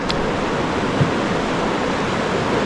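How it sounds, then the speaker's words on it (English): A steady, full roar of rushing water churning over the C3 Rapids on the Spanish River, constant and close with no letup. "this is the top of the C3 Rapids"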